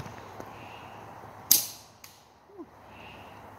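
A SimpleShot Fowler series sparrow slingshot fires at a tree outdoors: one sharp, loud snap of the band releasing, followed by a faint distant tick and a soft thud, over quiet ambient background.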